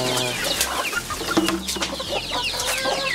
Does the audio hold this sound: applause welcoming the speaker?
no